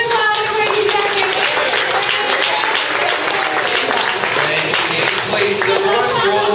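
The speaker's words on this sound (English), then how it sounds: "Ladies and gentlemen, we see a nice big round of applause for Captain Mike" An audience applauds Captain Mike during the Backlot Tour at Disney's Hollywood Studios; steady clapping fills the whole stretch, mixed with voices and crowd noise.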